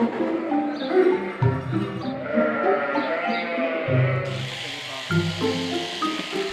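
Sheep bleat repeatedly on a farm flock of ewes, yearlings and rams at shearing time, several overlapping wavering calls close by and fairly loud over steady background noise.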